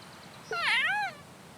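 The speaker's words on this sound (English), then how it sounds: "A black cat!" A black cat in the Trails of Cold Steel video game gives a single clear, close meow with a rising then falling pitch, standing alone against faint background hum.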